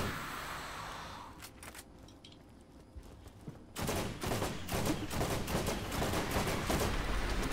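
Rapid gunfire from the video game Borderlands, bursts of shots that build into a dense, continuous volley in the second half, loud and close with no talk over it.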